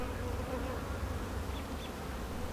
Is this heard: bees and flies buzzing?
yes